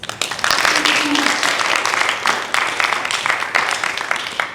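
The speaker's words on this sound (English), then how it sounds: "please join me to give Dr. Moon another round of applause" A lecture audience applauds a speaker, a dense patter of many hands clapping for several seconds at moderate distance, with some talking mixed in.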